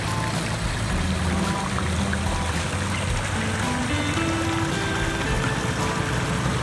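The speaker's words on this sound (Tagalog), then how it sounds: "Yung lagas-las ng tubig." Irrigation water rushes steadily along a channel beside a rice field, a continuous close gurgling flow that stays even and loud throughout, with no voices.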